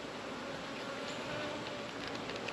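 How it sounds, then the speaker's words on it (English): Honey bees hum steadily inside an opened hive, a dense, even buzz that stays close and continuous throughout, with no voices. "The main cluster of bees is here."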